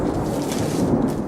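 Recorded thunder effect from a boxed Halloween haunted village decoration, a continuous rumbling roll with rain-like hiss, loud and close throughout the short stretch.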